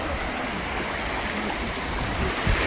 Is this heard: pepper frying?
no